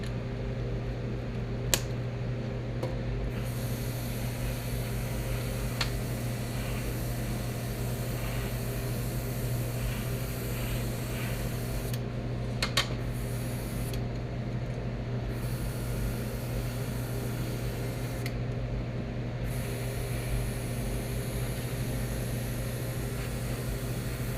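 A spray gun applies chrome paint to a 1966 Ford Galaxie 500 convertible during its restoration, giving a steady, close hiss that runs for over twenty seconds with only a few brief breaks.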